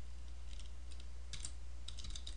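Clicks of a computer keyboard while scripting in Blender, scattered light keystrokes in short clusters over a steady low hum, close and quiet.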